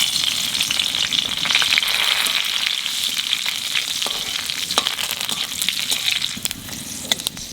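Cumin seeds, bay leaf and dried red chilli sizzle in hot oil, a steady, close frying hiss with occasional light crackles and pops.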